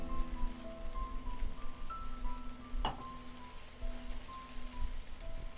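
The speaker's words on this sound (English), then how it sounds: "Looks like it started to rain." Steady rain from a visual novel video game, falling continuously on a surface with soft patter and a single sharp clink partway through, under faint musical tones.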